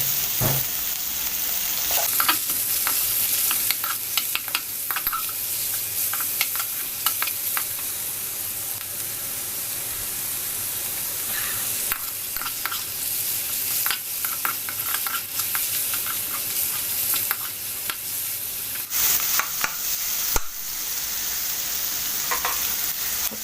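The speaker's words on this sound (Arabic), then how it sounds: "بس كده بقى نحط السجق." Chunks of sausage are stir-fried in a hot pan with a steady loud sizzle, broken by the scrape and clatter of stirring throughout. No one speaks.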